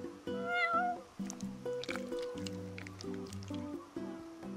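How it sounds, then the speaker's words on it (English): A cat meows in the video game Final Fantasy XV, a clear near meow at the start, then soft further mews over gentle music. "You're one spoiled cat."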